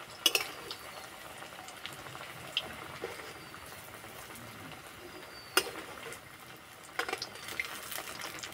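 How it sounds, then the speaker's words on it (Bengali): Rice flour snacks fry in hot oil over low heat, a soft, steady sizzle with scattered sharp clinks and taps from a utensil, quiet and close with no talking. "আর ভাজার সময় আস্তে আস্তে জাল দেবো আর ভাজবো"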